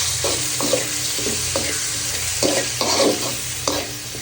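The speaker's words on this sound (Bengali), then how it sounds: "এখন কিছু টমেটো দিয়ে দিচ্ছি।" Tomatoes frying in hot oil with browned onions, a steady close sizzle broken by repeated scraping stirs about every half second.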